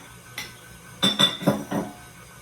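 Two large brown eggs go into a bowl of butter and sugar for oatmeal craisin cookie dough: a light tap, then a quick cluster of three or four close, sharp clinks against the bowl, with no talking.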